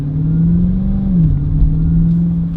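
A 2022 Dodge Charger Hellcat widebody with a supercharged engine accelerating, a loud, steady deep engine drone from inside the car that holds a low tone and shifts pitch slightly partway through.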